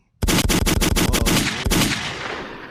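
A rapid burst of about ten loud, close gunshots in quick rhythmic succession, followed by one more shot and a fading echoing tail.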